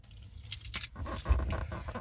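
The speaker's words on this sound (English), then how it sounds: "Make sure I put the keys in my pocket so I don't accidentally lock myself out of the shop." Metal keys jangle close by in an auto shop as they are pocketed, a couple of bright rattling bursts over a low background rumble.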